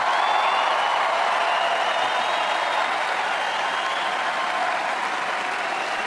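Audience at a political speech breaking into sustained applause and cheering, a dense, even roar of clapping that holds steady and eases slightly toward the end.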